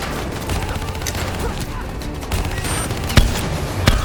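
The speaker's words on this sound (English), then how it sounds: "Hit him with the swarm launcher!" Swarm launcher fire and explosions in the Call of Duty: Black Ops III video game: dense, loud bursts of gunfire and blasts, with sharp louder hits toward the end and shouted voices mixed in.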